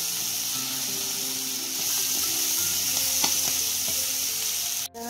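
Mixed vegetables sizzle and fry steadily in a hot pan for a paneer curry, a continuous close crackle with a few light stirring clinks and a brief pause near the end.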